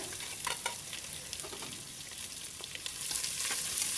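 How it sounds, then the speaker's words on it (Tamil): Chopped onions sautéing in oil and ghee with spices for a mint pulao, a continuous close sizzle with occasional scrapes and stirring clicks of a utensil in the pan. "நம்ம கட் பண்ணி வச்சுருக்கிற வெங்காயம் ஆட் பண்ணிக்கிறேன்"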